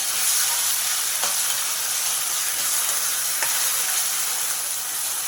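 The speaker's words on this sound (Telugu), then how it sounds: "ఇది అడగంటకుండా బాగా కలుపుకోండి ఈ ఉల్లికారం కొంచెం వేగనిద్దాం" Onion chili paste for a traditional flat bean curry fries in a pan, giving a steady, loud, close sizzle with faint scraping stirs every couple of seconds and no talk.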